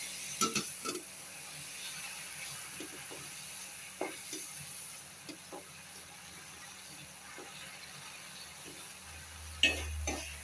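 Quiet steady sizzle of fish frying in oil, broken by occasional scrapes and clinks of a utensil in the pan.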